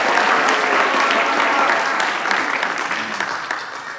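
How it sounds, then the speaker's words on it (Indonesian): Steady applause from an audience at a youth leadership forum in Indonesia, dense clapping after a question that gradually fades toward the end. "Oke, tepuk tangan"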